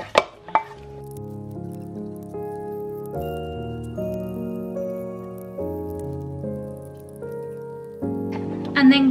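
A lumpy flour paste stirred as milk is added for a festive mac and cheese sauce, soft wet squishing and scraping under a loud melodic backing of music, with a few sharper knocks.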